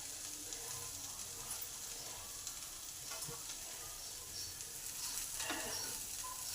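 Eggplant and kulpi greens added to half-cooked vegetables sizzle steadily in a pan, a soft continuous fry with occasional stirring scrapes, close and fairly quiet with no talking.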